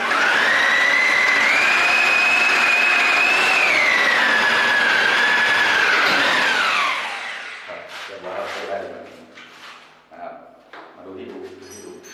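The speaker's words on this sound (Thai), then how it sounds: "เราเจาะสองด้านหากันนะครับ" A loud, high-pitched power drill whines steadily for several seconds boring a hole in a bathroom door for a doorknob, its pitch dipping slightly, then cuts off, followed by scattered knocks and faint movement.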